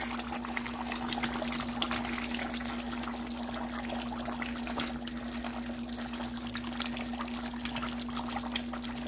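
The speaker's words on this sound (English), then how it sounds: "now definitely want to add some more water" Water pours steadily into a pot of oxtail stew that has been cooking for two hours, a continuous quiet splashing trickle with a low steady hum beneath it.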